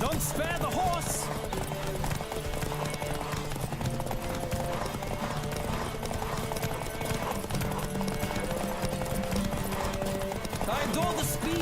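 Horse hooves gallop in a steady, continuous clip-clop during a horse race in The Witcher, under a dense layer of other game sound, with an occasional whinny.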